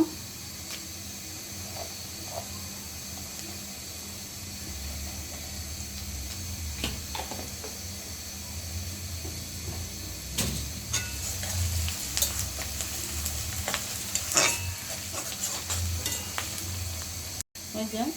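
Bay leaf and garam masala going into hot oil for an egg dal, a steady close sizzle and frying hiss throughout, with scattered crackles and spoon scrapes stirring the pan.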